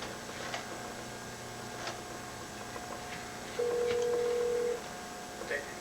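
A phone on speakerphone gives a few faint dialing ticks, then a steady electronic tone for about a second, heard quietly with room noise.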